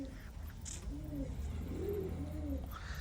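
A pigeon coos softly nearby, a few low rolling calls in a slow rhythm over quiet background noise.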